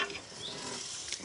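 Sausages under a little marinade cook on a barbecue grill, giving a steady, soft sizzle with fine crackling throughout, faint and close with no talking.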